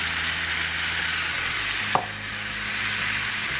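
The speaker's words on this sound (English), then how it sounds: "A little more stirring." Flour roux stirred in a very hot cast iron skillet with beer added, steady sizzle and frying hiss with a spoon scraping, one sharp clack midway, no voices.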